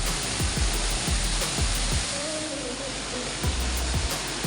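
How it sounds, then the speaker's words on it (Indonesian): An electric fan running at its highest speed during cleaning makes a steady, loud, broadband rushing whoosh, with some low thumps and bumps mixed in throughout. "Pastikan pakai kecepatan yang paling tinggi ya teman-teman, biar perputarannya itu kencang."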